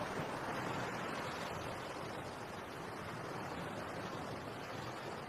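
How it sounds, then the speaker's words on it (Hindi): Continuous broadband wash of ocean waves on a shore, steady and fairly faint, with some wind noise mixed in and no talking. "अपनी आंखें बंद कर समुद्र की लहरों को सुनकर मुझे शांति मिलती है"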